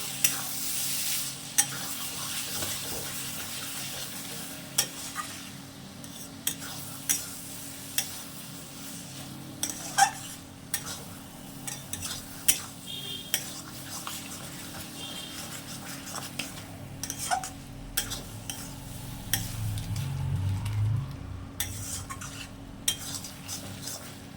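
Shrimp and banana flower curry with a little ghee is stirred in a pan, with repeated scraping and clacking strokes of a spoon against metal over a soft, steady sizzle, close and fairly quiet.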